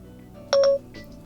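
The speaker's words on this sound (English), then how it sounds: "Siri will pop up from the bottom and beep, indicating that we can then speak to it." A short two-tone electronic beep from an iPhone 4S as Siri activates, a single clear chirp lasting about a quarter second in a quiet room.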